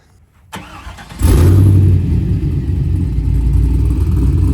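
A 4th gen Camaro engine with Borla XR1 mufflers grafted into Speed Engineering dual 3-inch exhaust cranks and fires up, then settles into a loud, deep, rumbling idle that stays strong and close.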